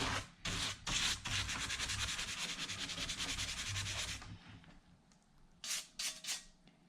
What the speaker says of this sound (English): Let's just see what happens when I give this a little scrub.